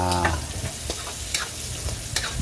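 Leftover vegetables, bell pepper and carrots, sizzle and crackle in a hot pan as they are stir-fried, with repeated scraping stirs over a steady frying hiss, close and moderately quiet.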